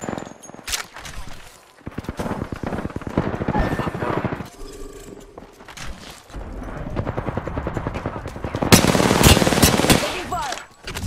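Automatic gunfire in Apex Legends, rapid bursts of shots in several volleys, loud and close, with one heavy sustained barrage near the end over game noise.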